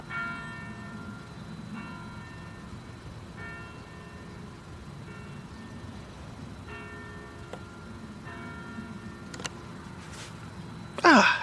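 Church bells toll slowly in the distance, a strike every second or so, ringing steadily under outdoor ambience, ending with a brief sharp clatter.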